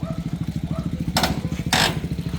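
A motorcycle engine runs steadily close by with a rapid, even pulsing throb, joined twice by short bursts of broadband hiss or rushing noise.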